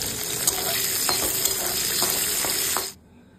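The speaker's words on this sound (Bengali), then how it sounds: "ওই তেলের মধ্যেই ক্যাপসিকাম গুলো ভেজে নিচ্ছি, একদম হালকা করে ভাজবো।" Capsicum frying lightly in oil, a close, even hiss of sizzling with faint stirring taps, cutting off abruptly near the end.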